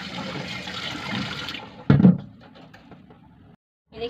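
Tap water runs onto a hot, burnt cooking pot in a rushing splash that stops partway, followed by a sharp knock of the pot and a quiet lull before another brief sound.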